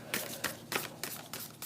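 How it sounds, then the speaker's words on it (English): Large cards being shuffled by hand, giving a series of soft riffling bursts at an irregular rhythm, close and fairly quiet with no talking. "They're kind of big cards, so I just like to shuffle them a little bit"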